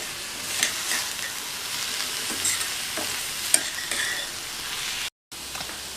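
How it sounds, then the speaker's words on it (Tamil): Radish stir-fry is stirred in a hot pan, a continuous soft sizzle with scraping and light clinks of the spoon close by, lasting a few seconds. "ஸ்டவ் ஆஃப் பண்ணிவிட்டு ஒரு தடவை மிக்ஸ் பண்ணி விட்டுறலாம்"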